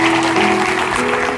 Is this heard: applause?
yes